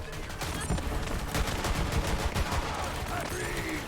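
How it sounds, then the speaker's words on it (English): Rapid pistol fire at targets in Borderlands 3, a string of sharp overlapping shots with game effects and a rising whine near the end, loud and continuous. "I love this pistol. I wonder what shooting on targets does."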